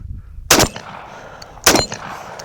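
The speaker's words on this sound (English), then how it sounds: "All right, might as well shoot some more." Two loud, sharp shotgun blasts from a Mossberg 930 JM Pro fired at stationary targets, about a second apart, each with a short echoing tail and no talk.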